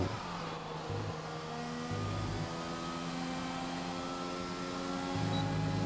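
Steady high-pitched engine whine of a racing car in a video game on the Australia circuit, with shifting gear tones and a constant drone, loud and close with no pauses.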